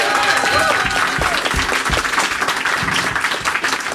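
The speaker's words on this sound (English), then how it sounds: "a round of applause" An audience bursts into loud, dense applause during a Christmas radio special, steady clapping filling the whole stretch with a voice faintly underneath.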